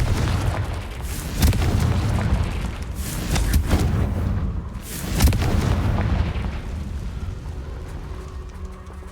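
Confringo spell explosions in a Harry Potter video game, with several heavy booming blasts rolling one after another, loud and close, each fading into a rumbling tail.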